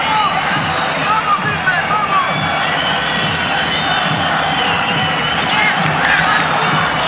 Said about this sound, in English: the Palau Sant Jordi, has been reverberating with the noise of a crowd really engrossed in what has turned out to be